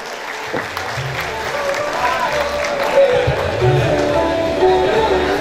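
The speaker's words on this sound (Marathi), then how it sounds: "जोरदार टाळी." An audience applauds at an outdoor award ceremony. The clapping is sustained and moderately loud, and voices carry over it.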